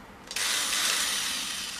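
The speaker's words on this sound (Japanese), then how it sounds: "この電気ドリル使います。" A hobby electric drill spins up and runs steadily with a high whirring whine for under two seconds, used to hold and turn plastic model kit parts.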